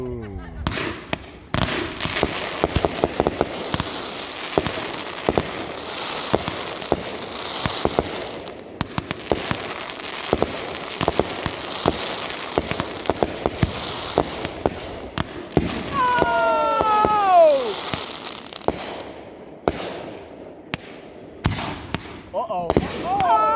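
Fireworks at a show pop and crackle in rapid bursts, with sharp reports, sizzling and louder booms at varying distances, while spectators chat and exclaim over them.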